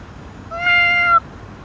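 One clear, drawn-out meow from a street cat nearby, rising slightly in pitch before it stops abruptly, with quiet around it.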